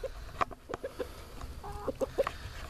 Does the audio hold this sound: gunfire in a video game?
no